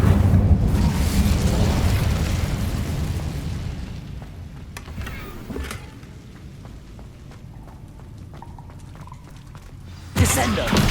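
An Incendio fire spell is cast in Hogwarts Legacy: a loud, roaring fiery burst that fades over several seconds into quieter crackles, then a second sharp flare near the end.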